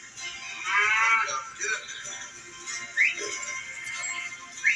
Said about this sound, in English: These cows are eating this field bare.